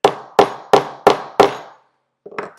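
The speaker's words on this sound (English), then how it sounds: "line it up over one of the holes, set it in place, and hammer it in." Hammer blows driving a glued wooden dowel into a wooden stool seat: five sharp, evenly spaced strikes close up, then a pause and a lighter final tap, with no talk.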